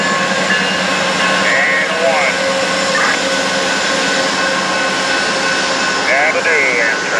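Amtrak's California Zephyr passenger train at the Fort Morgan, Colorado station produces a steady, loud broadband rumble throughout, with brief squealing tones rising above it; a voice speaks briefly over the noise.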